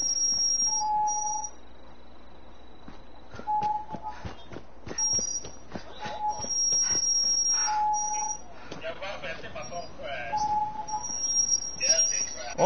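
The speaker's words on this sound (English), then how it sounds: "Who's whistling?" Short, high, clear whistle tones repeat at intervals over a microphone during a live console game broadcast, with a person talking in between and some background noise.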